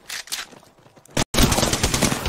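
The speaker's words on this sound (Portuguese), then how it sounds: "Pega ele, dá tiro aí, Paulo." Automatic gunfire from the video game PUBG on Xbox, a short burst followed by a sharp break and then sustained rapid shooting, loud and close, with no talking.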